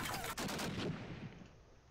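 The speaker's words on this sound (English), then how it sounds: "Nice headshot when in the mid air with his MP44" An MP44 fires a quick burst of gunshots in a video game, dense rattling reports that decay into a fading echo, moderately faint.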